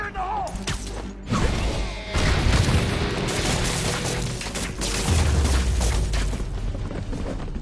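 Explosions in the Spider-Man PS4 game, with heavy booms around one and two seconds in and another near five seconds, over a rumbling, mechanical background of combat noise.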